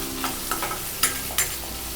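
Onion and curry leaves fry in a pan for a cashew masala curry: a low steady sizzle with several quick ladle scrapes and taps as they are stirred, close up and without voices.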